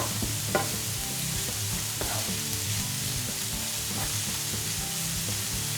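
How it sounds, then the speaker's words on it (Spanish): Spring onion and vegetables sautéing in a frying pan, a bright steady sizzle with periodic utensil scrapes and taps as they are stirred. "Y ahora sofreímos las verduras, empezando por la cebolleta."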